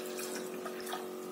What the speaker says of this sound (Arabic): دوك ندير لها الماء.